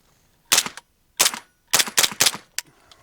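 An MP5-type firearm loaded with Fiocchi 158-grain subsonic ammunition fires through an Otter Creek Milkman suppressor, giving about six quiet muffled shots in irregular spacing, each a short sharp pop with a brief mechanical tail.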